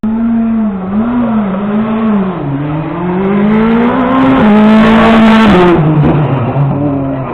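Race cars at the Chamblon slalom race in Switzerland, engines loud and close, revving and accelerating with rising and falling pitch, a tire squeal near the end; no talking.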